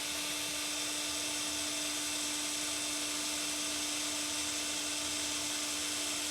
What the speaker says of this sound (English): I'm just going to let the drill do its thing.